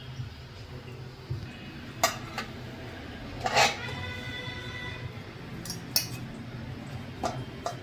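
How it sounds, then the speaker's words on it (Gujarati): Cumin biscuits being turned over in a pan, a few sharp metallic clinks and scrapes of utensil against pan spaced over several seconds, with a soft background hum between them. "તો હવે બિસ્કિટને ફેરવી લેશું"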